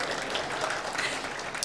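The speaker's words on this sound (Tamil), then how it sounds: "ஒரு பெரிய கைத்தட்டி முடிச்சிருங்க" Audience applause at a Tamil speech event, a sustained steady wash of many hands clapping at moderate volume with no speech over it.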